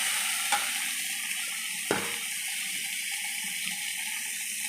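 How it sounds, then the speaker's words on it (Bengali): Chopped onion and ginger fry together with spices in a pan, giving a steady bright hiss of sizzling oil broken by two brief clicks of a spoon, close and continuous with no voices. "দিয়ে এই মশলার মধ্যে একসঙ্গে সব ভেজে নেব"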